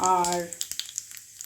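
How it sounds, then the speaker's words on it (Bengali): Whole cumin seeds hit hot oil for tempering in a home kitchen, giving a brief voice followed by a run of sharp, close crackling pops and sizzle. "তেল গরম হয়ে গেছে। এবার ফোড়নে যেটা দেব সেটা হচ্ছে একটু জিরে, গোটা জিরে আর কি"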